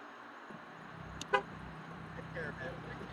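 During a neighborhood car show, a car horn gives a couple of short, sharp honks amid passing traffic rumble, with people talking nearby.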